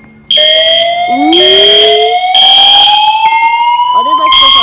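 A school fire alarm blares loud and steady at close range, a continuous high electronic tone with a rising sweep, while a voice talks faintly beneath it.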